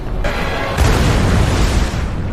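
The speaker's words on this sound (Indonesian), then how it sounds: "salah satu penyintas bernama Pilot pun nekat mengorbankan dirinya dengan akan meledakkan dirinya sendiri" A survivor named Pilot blows himself up: a heavy, close explosion with a deep rumbling boom, followed by a second surge of blast and debris that stays loud and dense to the end.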